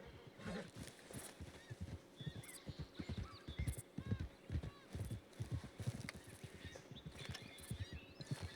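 Hooves clip-clop in a steady rhythm beneath bursts of talking, with a horse whinnying briefly and faint birds chirping in the background, in the video game Red Dead Redemption 2.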